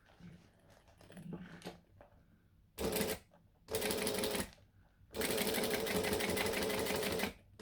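Domestic sewing machine stitching fabric for a bangle-style project, heard in three bursts of fast, steady mechanical whirring, the last one longest, with quieter handling noises between them.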